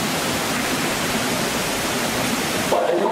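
A waterfall rushes in a constant, dense hiss of falling water, loud and close, and holds steady throughout with only a slight shift near the end.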